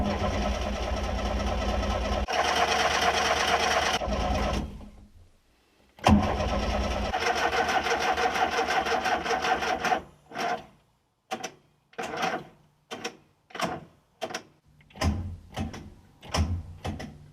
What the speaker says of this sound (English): just keep turning the starter motor over until the battery dies